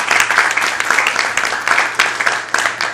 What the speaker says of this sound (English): Let's give a round of applause for our group